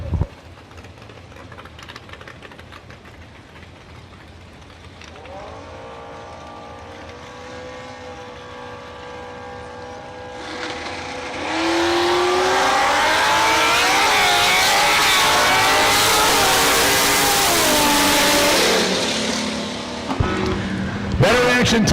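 A big block Chevy Nova and a 2023 Kawasaki motorcycle on a drag strip. Engines idle low at first, then climb into a loud, sustained full-throttle roar that rises in pitch and fades away near the end.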